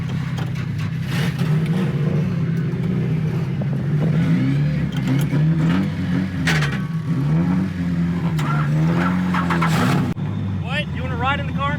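Mazda Miata drifting on a hilly drift track with trees close by, its engine revving and rising and falling in pitch under constant loud running noise, with people talking over it and a brief tire-like squeal near the end.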